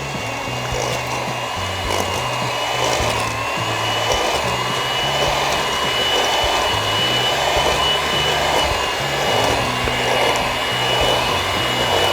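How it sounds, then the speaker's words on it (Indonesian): An electric mixer beats cheese cookie dough with a loud, close, steady motor whir that continues without a break, over faint background music. "Adonan ini cukup kita kocok sampai warnanya berubah menjadi pucat ya."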